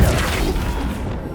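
The Flipendo knockback spell goes off in the video game Hogwarts Legacy as a single loud, close burst: a heavy booming thud with a crashing rush that fades quickly.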